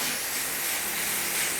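Hair dryer on high power and low heat blowing through a flat nozzle during a skin fade and beard trim, a steady loud airy hiss held without a break.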